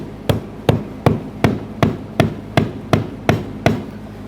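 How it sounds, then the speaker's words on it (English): A rubber mallet strikes a brass punch against the locking ring of a fuel pump assembly on a 2011-2020 Toyota Sienna, ten sharp, evenly spaced knocks about 0.4 seconds apart, close and loud with no talking. "We'll be using a rubber mallet and a brass punch."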